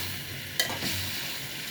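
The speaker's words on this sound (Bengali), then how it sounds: "নাড়াচাড়া করা হচ্ছে" Spices for a country chicken curry fry in a pan under steady sizzling, with a sharp spatula scrape and a couple of stirring strokes breaking through midway.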